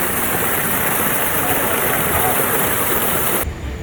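Waterfall at Busch Gardens Williamsburg theme park: a loud, continuous broadband roar of rushing water close by, cutting off abruptly near the end of the clip.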